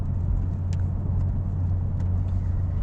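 A stock Mitsubishi Evo X engine drones steadily from inside the cabin, a deep constant rumble with road noise and no clear rise in pitch.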